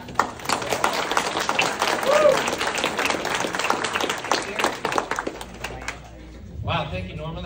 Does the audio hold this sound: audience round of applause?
yes